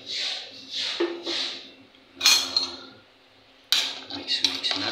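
A spoon stirring vegetables and shrimp-paste broth in a cooking pot, soft scraping strokes followed by sharp metallic clinks and knocks against the pot, close and irregular.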